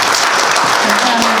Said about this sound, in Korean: 세 분에게 박수 부탁드리겠습니다